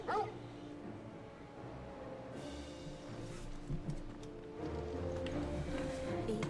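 A dog whimpers and yips in the video game Final Fantasy 16, giving several short, close whines over faint game background sound.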